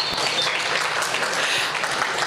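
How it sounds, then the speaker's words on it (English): An audience at a trailer launch event applauds, a dense, steady burst of clapping that fills the short moment without any talking. "applause, please."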